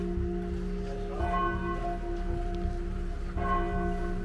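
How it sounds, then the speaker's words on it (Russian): Church bells in Kranj, Slovenia ringing at a moderate distance, with sustained overlapping tones and fresh strikes renewing the resonance twice over a faint outdoor background. "громкий звон колоколов."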